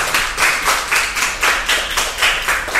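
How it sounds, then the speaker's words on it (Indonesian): A small group claps in a steady, rhythmic beat, about two claps per second throughout, fairly close and clear, at a school class worship session run by students. "Tepuk tangan dulu dong buat Jonathan."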